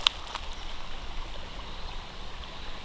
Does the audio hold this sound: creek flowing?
yes